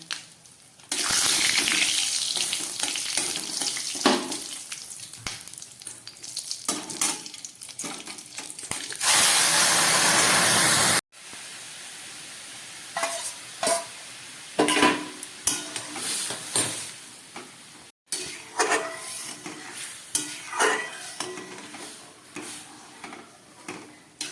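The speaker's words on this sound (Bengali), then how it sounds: "দিয়ে দিচ্ছি একটু জিরে ফোড়ন। আর এখানে একটা এলাচ, একটু লবঙ্গ আর দারচিনি, এটাও ফোড়নে দিয়ে দিলাম।" Whole cumin seeds, a cardamom pod, cloves and cinnamon crackle and sizzle in hot oil to temper dal, a steady hiss with a louder, denser burst partway through, plus occasional clicks of a spoon against the pan.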